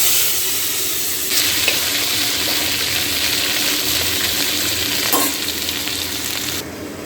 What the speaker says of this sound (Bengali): কুঁদলি, আলু আর কুমড়ো কেটে নিয়েছি, এগুলো ভেজে নেবো